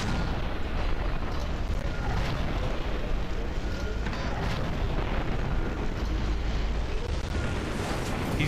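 Missile launcher fire and explosions in the first-person shooter F.E.A.R. 2 produce a dense, continuous roar of blasts and rumbling debris, loud and unbroken for the whole stretch.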